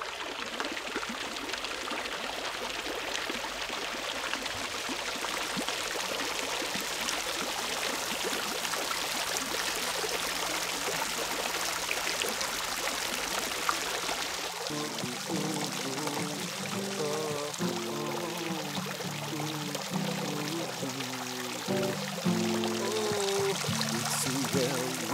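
Fresh water pours and streams steadily for the whole stretch, a dense, constant rush close by, with a quiet voice partly audible beneath it.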